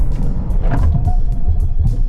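A Proton S70 turbo sedan accelerates and drives in a loud, close rumble of engine and road noise that swells briefly, with no talking.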